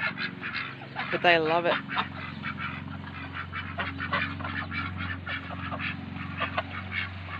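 A single honking duck quack stands out early, then a person speaks casually over a steady low hum of outdoor background near flooded ground after heavy rain.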